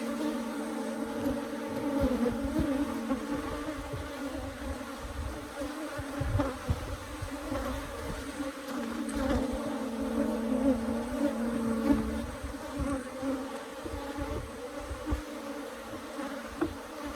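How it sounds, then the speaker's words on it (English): Dense, steady buzzing of a large mass of Africanized honey bees at an open hive box, close and loud, continuing without pause. "I can't hear over the bees."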